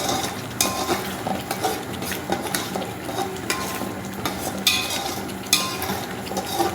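Ground mint paste fries and spatters in a pan of homemade chicken biryani masala, with a steady sizzle under repeated clinks and scrapes of a spoon against the metal pan, close and continuous.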